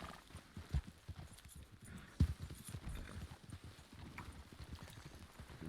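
Horse hooves clip-clopping in the Red Dead game at a camp in the open, a steady uneven patter of footfalls near the listener with a couple of sharper thumps, no talk.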